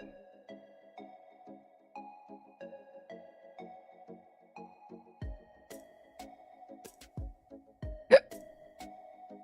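A single sharp hiccup stands out near the end, loud and abrupt, over a steady background of music and muffled sounds.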